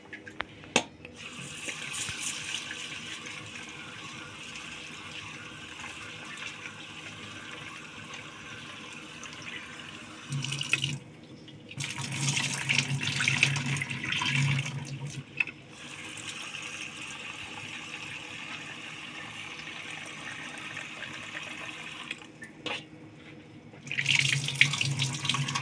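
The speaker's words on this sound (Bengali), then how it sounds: "চলুন ডালটা ধুয়ে নিই।" Mung dal lentils being washed under a running tap, a steady stream of water that swells into louder splashing bursts as the lentils are swished, with no talking.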